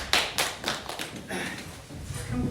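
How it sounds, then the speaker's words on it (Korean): A church congregation claps to welcome a visiting guest during a service, a short scattering of distinct hand claps close by with some thumps and room noise between them. "박수로 환영하도록 하겠습니다"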